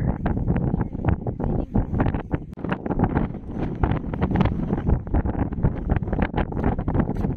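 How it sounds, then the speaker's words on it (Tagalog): Strong wind at a beach in Trouville buffets the microphone in continuous loud gusts, a dense low roar with rustling bursts throughout. "Hangin talaga."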